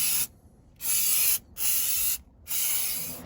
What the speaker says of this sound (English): We're also going to do a quick little undercoating spray in these wheel wells.